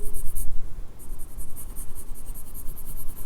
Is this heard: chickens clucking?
no